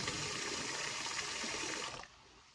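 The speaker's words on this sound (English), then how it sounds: "we're gonna add a little bit more water just so like it mixes it together" Water pours and gushes steadily into a shoe-cleaning mixture for about two seconds, then cuts off abruptly. The splashing is continuous and fairly close.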